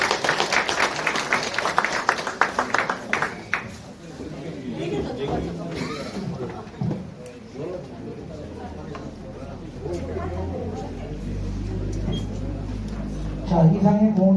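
At the close of a lecture to a small-business association meeting in a conference room, the audience breaks into applause, with clapping loudest at the start and then giving way to chatter and a host speaking.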